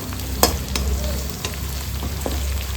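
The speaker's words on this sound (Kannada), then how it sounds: "ಹಾಗಾಗಿ ಕರಿಬೇವು ಸೊಪ್ಪನ್ನು ಹಾಕ್ಕೊಳ್ತಾ ಇದ್ದೀನಿ. ಚೆಂದ ಫ್ರೈ ಮಾಡ್ಕೋಬೇಕು." Curry leaves fry and are stirred in a pan of hot oil for a Coorg-style chilli pork dish: a continuous close sizzle broken by several sharp scraping stirs, with no talking.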